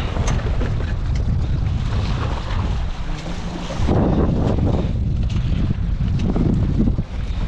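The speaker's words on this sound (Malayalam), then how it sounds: "കാറ്റ് നല്ല കാറ്റ്, എൻ്റെ പൊന്നു മോനെ രക്ഷയില്ലാത്ത കാറ്റാണ്." Strong wind roars across the open Arabian Sea aboard a squid-fishing boat, with a loud, continuous broadband rush and buffeting against the microphone, and water and hull noise beneath it.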